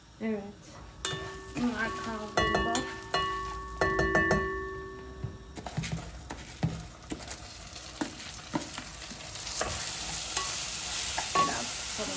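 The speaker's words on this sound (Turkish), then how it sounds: "Yeşillerim kavruldu birazcık." Greens sautéed in a pan hiss with a soft sizzle while a utensil clatters and scrapes in steady stirring, close up, with occasional light knocks against the pan.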